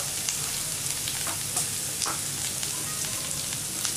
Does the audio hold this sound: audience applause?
no